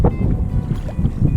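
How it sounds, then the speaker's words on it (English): Paddles of a tandem kayak dip and splash in the water off the Florida Keys, close up, with some wind buffeting the microphone over a short stretch and no talking. "This was just a little clip of us going out and kayaking"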